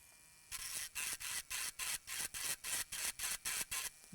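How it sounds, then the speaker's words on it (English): A small grinding tool working on a shorted laptop circuit board of an ASUS Strix Scar 2023, in quick regular bursts of raspy whirring separated by brief pauses, close and fairly quiet. "Let's keep grinding."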